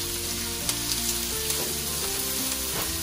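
Onion and smoked pork hit a hot pan and sizzle loudly and continuously, with a busy crackle and small stirring knocks over a low hum of the stove.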